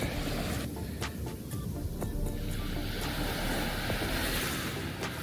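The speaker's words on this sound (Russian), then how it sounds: "здесь, наверное, пляж с большой волной, то есть он ветреный" Ocean surf and strong wind on a windy Mauritius surf beach give a steady, broad roar of waves with gusty microphone buffeting and a few faint clicks, and no voices.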